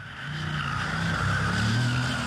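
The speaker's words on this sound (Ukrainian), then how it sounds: "Все гаразд, окрім виску шин." Sustained high tire squeal from a Pagani Zonda F Roadster braking hard, a steady screech held across the whole stretch with a low engine and road rumble beneath, loud and close.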